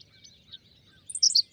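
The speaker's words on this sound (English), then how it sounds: "But I want you to listen to the Henslow sparrow's call." A Henslow's sparrow gives a very short, high, thin twitter at a distance, with a brief chirp cluster near the end of a quiet grassland background.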